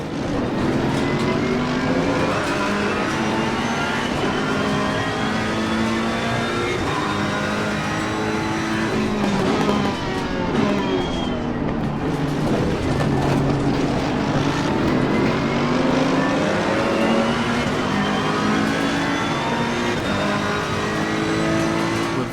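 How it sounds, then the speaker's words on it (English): A Ferrari GT race car engine howls around Imola in Assetto Corsa Competizione, a loud, steady high-revving whine that rises and falls with gear changes, dipping briefly midway before climbing again, with no talking. "We're driving the brand new Ferrari of this season around Imola."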